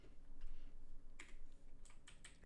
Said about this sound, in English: I was just typing in the chat on accident